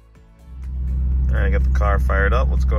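A 4th gen Camaro/Firebird engine cranks and catches, settling into a loud, steady low rumble, while a person speaks over the running engine.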